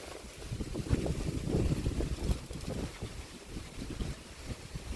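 Strong storm wind buffets the microphone in a constant roaring rush at sea, with gusts swelling and easing throughout.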